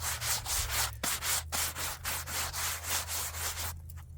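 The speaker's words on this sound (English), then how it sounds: "Let me dust this off so you guys can kind of see." A freshly sawn white oak board is brushed off by hand at a sawmill, giving steady rhythmic rubbing strokes about twice a second over a low machine hum, close and fairly quiet.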